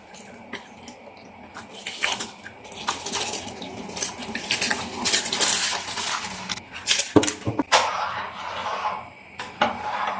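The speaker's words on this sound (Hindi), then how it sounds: "तो चावलों को अच्छी तरह से धो लिया, आप डाल देंगे इसमें" Washed rice tipped into a pot of boiling water for a Shahi Mutanjan dessert, a dense rattling and clatter of grains against the metal pot with scattered sharp clinks, fairly close and steady for several seconds.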